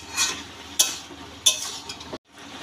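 Water spinach being stirred in a pan with a few fried prawns for a Bengali-style chorchori, cooked with green chilli and no spices: close, scraping stir strokes over a low sizzle, ending in a brief pause.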